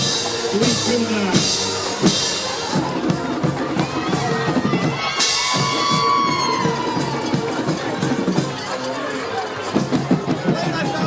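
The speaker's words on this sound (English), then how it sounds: "There's a big crowd here on the Colonia side." Crowd noise at a high school football game between Colonia and JFK, a loud sustained roar of cheering and chatter with shouts, whistles and bursts of excitement throughout.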